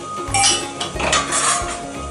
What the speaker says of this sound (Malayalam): നമുക്ക് അതിലേക്ക് കുറച്ച് ഓയിൽ ഒഴിച്ച് കൊടുക്കുക. പിന്നെ നമ്മൾ എടുത്ത് വെച്ച സ്പൈസസ് ഇട്ട് കൊടുക്കുക.